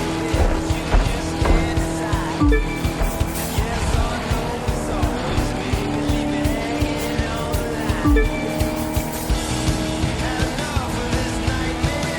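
Racing trucks in the video game The Crew 2 roar with revving engines and squealing tires, a loud, continuous drone with repeated skids and gear shifts throughout.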